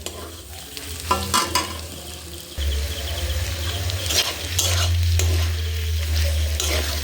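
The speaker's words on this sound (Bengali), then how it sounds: "মাংসটা সুন্দরভাবে নেড়ে নিয়েছি" Chicken with garam masala powder frying in a pan while being stirred, a steady close sizzle with scraping strokes that grows louder and denser partway through, no voices.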